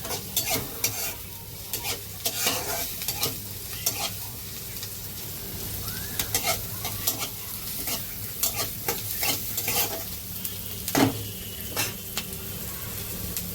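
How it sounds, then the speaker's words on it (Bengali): Chopped ginger and garlic fry in a pan under repeated stirring, with a constant soft sizzle broken by frequent spoon scrapes and clinks, nearby and moderately quiet, with no voices. "আর আদা রসুন কুচি। আদা রসুনটা ভেজে নিচ্ছি।"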